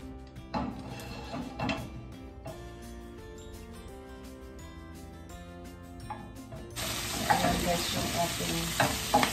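Swiss chard sautéing in olive oil with salt and pepper, steady sizzle and frying hiss with stirring scrapes and clinks, growing louder and brighter toward the end, no talking.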